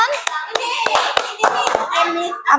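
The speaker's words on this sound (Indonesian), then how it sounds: "Oke, beri tepuk tangan." Children in a classroom clap their hands in a quick, uneven burst of sharp claps, close and fairly loud, while young voices chatter over it.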